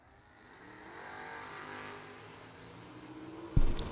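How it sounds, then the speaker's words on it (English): Drag racing cars, a G-body and a third-gen Camaro, roar in a steady, building engine drone at a vintage drag race, ending with a sudden loud, close burst of noise. "542 on the boards for the third-gen Camaro of Dirk Sutton."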